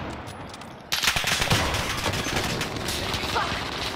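Gunfire in the Warzone video game: rapid automatic bursts erupt after a quiet start and rattle on continuously, loud and close, with a voice talking briefly under the shooting.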